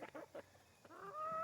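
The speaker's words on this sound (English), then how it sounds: "Oh look, a chicken. Look how pretty she is." A speckled hen clucks nearby, a few short soft clucks followed by a longer rising tonal call, with no talking over it.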